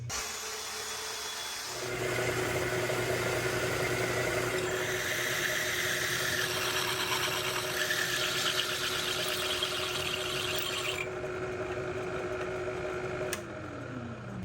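A 1.5-inch annular cutter spins in a 3/4-inch machine collet, giving a steady, loud mechanical whir and grinding hum that holds for about ten seconds before winding down, with no talking.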